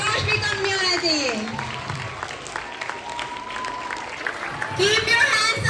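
Continuous crowd applause at an astronomy lab inauguration rumbles underneath while someone speaks loudly over it, the clapping swelling again near the end.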